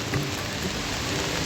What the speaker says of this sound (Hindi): क्योंकि बारिश बहुत तेज़ी से हो रही है।